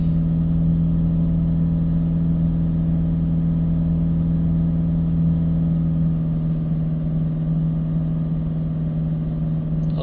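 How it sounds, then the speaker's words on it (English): A Mercedes E Class with a blocked diesel particulate filter holds a steady 1500 RPM, its engine droning with a constant low hum that stays even and unbroken throughout. "So just going to hold the revs now at about 1500 RPM"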